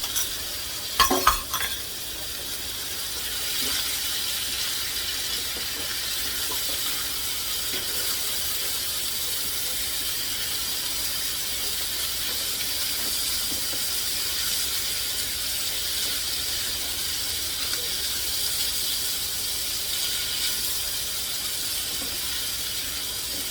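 Onions and garlic fry in a pan beside sausage for a sauerkraut dish, giving a continuous close sizzle and hiss, a few sharp clatters near the start, then even frying with no talking.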